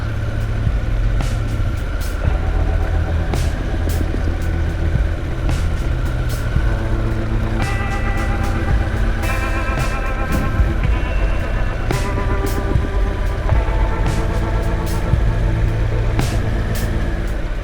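Harley-Davidson Pan America adventure motorcycle ridden off-road on a trail at steady throttle, its engine droning loud and close with rising and falling gear tones and wind buffeting throughout.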